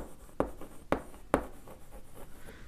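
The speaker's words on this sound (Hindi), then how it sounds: "जैसे लिख देते हैं यहाँ पे एक सेंटेंस मैं लिखता हूँ" Chalk or marker writing a sentence on a classroom board: three sharp, distinct strokes about half a second apart, close and clear, followed by fainter scratching, with no talk.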